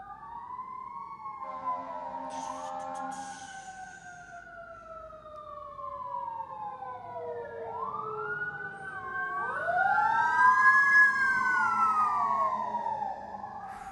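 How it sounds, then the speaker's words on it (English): Wailing emergency sirens sweep up and down over steady city traffic rumble, growing louder as they pass close by. "it's got sirens coming through"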